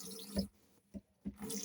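Cold water runs from a sink tap in a boat's washroom, a close hiss that cuts out briefly, sputters twice, then flows steadily again.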